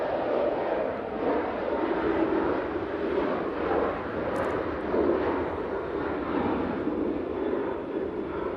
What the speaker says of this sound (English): So this Ryanair 737-800 off to Murcia.